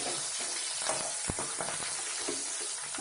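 Green chillies hit hot oil with mustard seeds, frying with a steady, dense sizzle throughout, a few sharper pops and crackles breaking through near and loud, and no talking.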